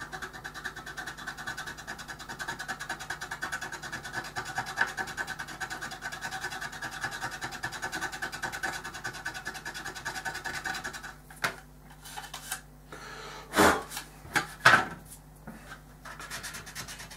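Excess material is filed down until flat, a steady close rasping scrape in quick repeated strokes that runs continuously for a long stretch, then breaks into a few scattered rubs and knocks.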